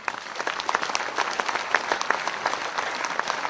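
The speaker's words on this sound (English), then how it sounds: "Give them a round of applause, folks" A crowd at an Anzac Day community gathering in North Ipswich gives a round of applause: dense, sustained clapping with sharp individual claps standing out, fairly close, with no talking over it.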